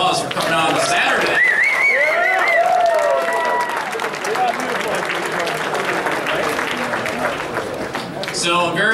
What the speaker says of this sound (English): Give yourselves a round of applause for coming out on Saturday.